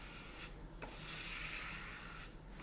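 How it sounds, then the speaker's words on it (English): Bondo knife squeegeeing a thin finish coat over Indian rosewood, giving a close, continuous scraping rub with two brief pauses, quiet and alone. "then I use a Bondo knife, like this, and then you just start squeegeeing it around"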